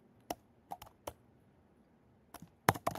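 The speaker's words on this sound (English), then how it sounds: "I'm not used to typing on this little itty bitty laptop keyboard." Sparse, sharp key taps on a small laptop keyboard come in a few scattered clicks, then a quicker cluster at the end, close and fairly quiet.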